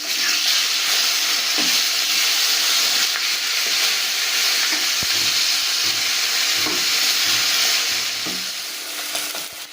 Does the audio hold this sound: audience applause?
no